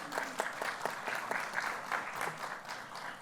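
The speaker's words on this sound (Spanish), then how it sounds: "un fuerte aplauso para Rodrigo, por favor" Audience applause at a pansexual pride day forum, a moderate patter of clapping hands that holds steady and fairly close for a few seconds without any voices over it.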